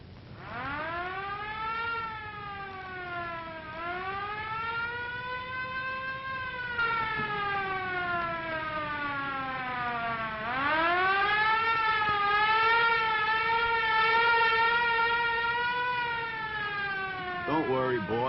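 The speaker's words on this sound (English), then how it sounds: "It's a fire engine." A 1960s fire engine siren wails loud and close, rising and falling in long sweeping cycles that climb again before a final fast warble, running steadily without pause.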